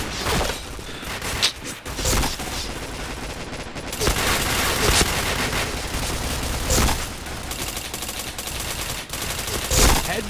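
Gunfire in a shooter video game: loud, rapid bursts of automatic fire and single shots fill the whole stretch, with repeated sharp cracks and short pauses between volleys.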